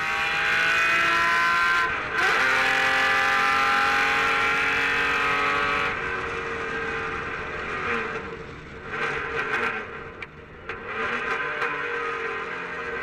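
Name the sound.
Cobra sports car engines racing on track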